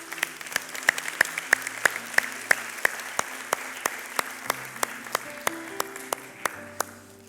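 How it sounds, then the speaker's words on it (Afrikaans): Sparse, rhythmic hand clapping from a church congregation, with sharp distinct claps spaced evenly at a steady beat over a soft room murmur. "kom ons klap vir hulle hande"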